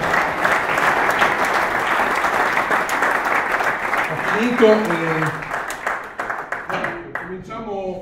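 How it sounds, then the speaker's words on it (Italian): Audience applause fills a dinner hall at a Panathlon club gathering, steady and dense for several seconds before thinning into scattered claps as a voice begins talking over it near the end. "a nome vostro il primo applauso"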